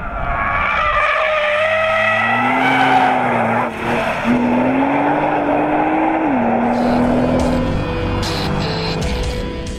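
Loud tire squeal with a wavering pitch as a Nissan GT-R Nismo brakes hard, the engine droning underneath throughout.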